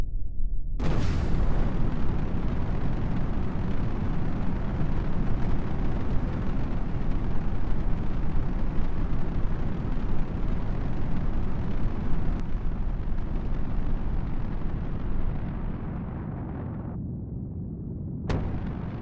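A steady, loud rocket-engine roar from a launch in Kerbal Space Program, a wobbly rocket climbing on continuous thrust. The dense rumble holds for nearly twenty seconds, easing slightly near the end, with no talk.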